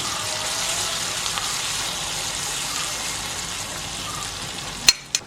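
Potato and cauliflower pieces frying in a pan give a steady, even sizzle at moderate loudness, ending with two sharp clinks of a utensil near the close.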